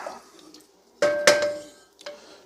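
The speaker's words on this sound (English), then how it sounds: "And then this is going to get some water." A short burst of water pouring into a metal pan, loud and close, after a quiet stretch, with a brief splash following.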